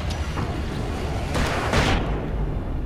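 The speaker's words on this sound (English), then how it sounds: "Já estou a mandar tipo flashbangs a tipo, ó." Flashbang grenades going off in the video game Alan Wake, two loud broadband bursts about half a second apart landing midway through, over a constant dense rumble of game noise with no speech.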